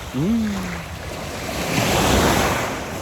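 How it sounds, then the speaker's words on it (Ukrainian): Ocean surf washing onto a shore in Japan, a steady broadband wash that swells louder toward the end, with wind buffeting the microphone and a brief rising squeal-like tone near the start. "трошечки послухати море"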